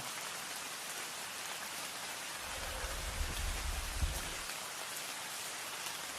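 Rain falls steadily, a soft, even hiss of drops on surfaces that stays faint and constant, with a low rumble swelling briefly midway.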